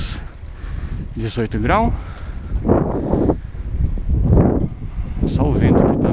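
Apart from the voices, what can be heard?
fairly strong wind outdoors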